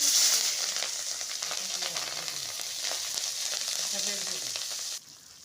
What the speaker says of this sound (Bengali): জিরাটা ফোড়ন দিয়ে দিব।